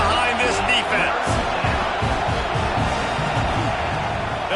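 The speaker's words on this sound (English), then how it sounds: "Big third down as the crowd gets behind this defense." A stadium crowd roars steadily throughout, a dense, loud wall of cheering for the defense on a football third down, with no pause in the noise.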